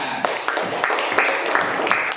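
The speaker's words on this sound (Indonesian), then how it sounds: "beri tepuk tangan untuk kelompoknya Hasna" A classroom of students clapping for a group, a dense patter of hand claps with a few louder accents, mixed with some chatter.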